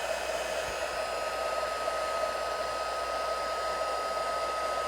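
A heat gun melting clear embossing powder on a handmade card, a steady close whirring blower with a constant high whine, unbroken throughout.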